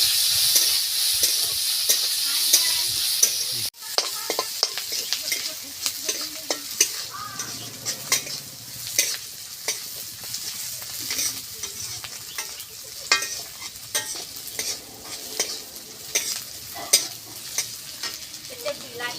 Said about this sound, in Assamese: ধুনীয়াকৈ ভাজি দিলোঁ